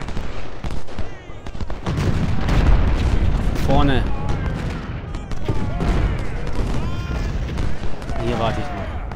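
Musket volleys and artillery booms from the Civil War strategy game Ultimate General: Civil War, fought at Laurel Hill, roll continuously as a dense, loud barrage beneath someone talking.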